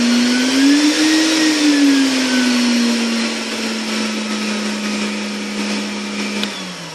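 A vacuum runs on full power pulling air through a Harbor Freight blast cabinet, a loud steady motor whine and rushing airflow whose pitch dips slightly midway, close and continuous.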